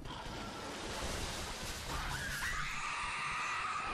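A creature in the video game Dark Souls III: Ashes of Ariandel lets out a shrill, rising scream that swells from midway and holds loud over a dense, roaring backdrop of game ambience.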